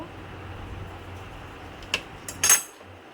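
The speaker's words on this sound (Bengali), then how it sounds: "একটা সাইড এইভাবে কেটে নেব" A knife cuts a cheese-topped paratha into pieces, giving a few faint, brief clinks and taps against the plate late in an otherwise quiet stretch.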